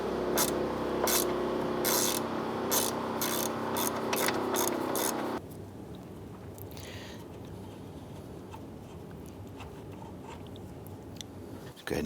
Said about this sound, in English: Use your 13mm socket. Let's go ahead, loosen and remove this.